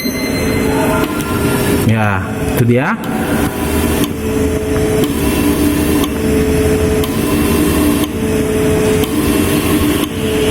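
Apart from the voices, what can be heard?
fuel injector tester and cleaner running reverse flushing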